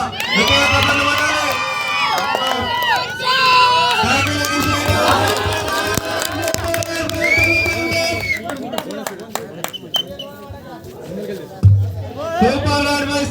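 A crowd at a kabaddi semi-final cheers and shouts, with children's voices among them, in a loud continuous roar of spectator noise and talk, ending in a few sharp bursts.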